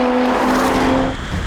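A brief, loud, steady engine roar comes from a Lotus, Audi Quattro and Porsche lined up in a drag race.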